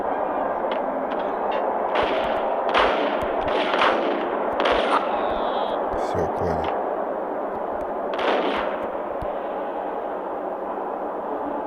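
Bursts of gunfire in the video game Max Payne crack intermittently over a steady background rumble, and a voice speaks briefly between the shots.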